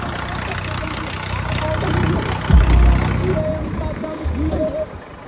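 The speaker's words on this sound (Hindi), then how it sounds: "मैं तो ट्रैक्टर पे चलूंगा" Swaraj tractor with a battery issue running, its low engine rumble steady throughout with a brief louder surge midway, while people talk over it.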